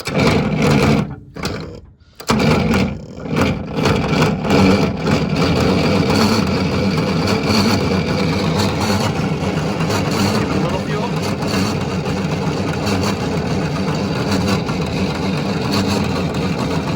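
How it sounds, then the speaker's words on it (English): A Detroit Diesel 671 engine in an old GM Silversides bus cranks and runs after years idle, a steady loud low diesel clatter filling the whole stretch after a brief stutter near the start, with voices partly mixed in. "Will this actually spin the motor over or just make sparks?"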